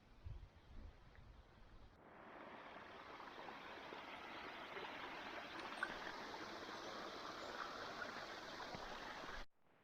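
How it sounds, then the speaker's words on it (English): Steady rushing water from a waterfall in Iceland pouring nearby, a broad even roar that begins after a brief quieter moment and cuts off at the end. "Another waterfall on our hike."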